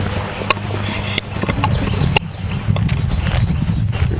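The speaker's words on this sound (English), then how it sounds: "Pretty wild horses." Irregular hoof clops of wild horses walking on hard ground on an island mix with low rumbling wind, a few sharper knocks standing out, with no talking.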